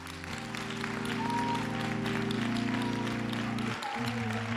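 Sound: congregation clapping hands

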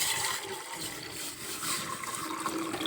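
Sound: water poured into pot

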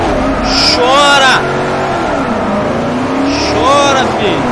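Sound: car engine in the video game Forza Horizon 4

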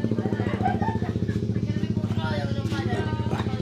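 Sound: Honda Beat FI scooter engine started and running

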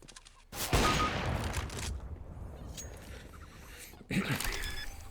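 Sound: gunshots in the video game Overwatch

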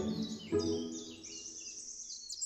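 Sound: forest birds singing

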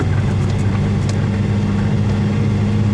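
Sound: VW Golf 2 engine running with knocking at the rear

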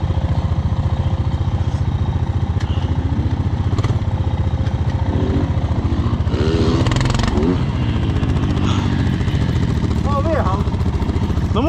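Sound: quad ATV engine driving out on ice

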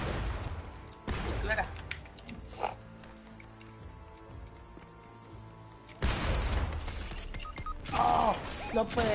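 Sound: gunfire in a video game

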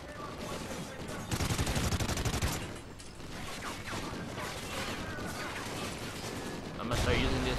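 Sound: gunfire from video game Call of Duty: Ghosts

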